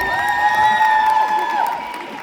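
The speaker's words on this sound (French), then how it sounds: "On applaudit très fort Émilie, s'il vous plaît." Audience at a Sunday cosplay contest at a convention cheers and applauds, a dense crowd roar with shouts and whoops over a steady clapping wash, loud and close throughout.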